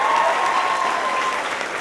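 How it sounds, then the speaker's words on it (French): A brief burst of dense audience applause at a school fashion show, a steady wash of many hands clapping together with no pauses or talking. "je pense que ça mérite une grosse main d'applaudissements"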